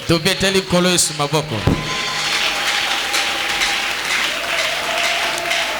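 A church congregation at a Sunday service breaks into applause, with rhythmic clapping and voices for the first two seconds giving way to a dense, steady wash of clapping that carries on to the end.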